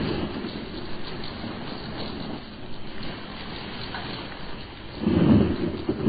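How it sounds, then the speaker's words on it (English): An electrical storm over an island in a radio drama, with a yacht moored at a pier: continuous heavy rumbling thunder and rain-like roar, swelling into a louder crash near the end, with no voices. "A sudden electrical storm sweeps over the weird island as Mrs. Gregory, Jerry, and Joan huddle in t"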